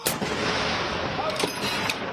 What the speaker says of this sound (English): the thunder of artillery